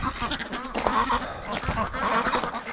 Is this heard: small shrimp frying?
no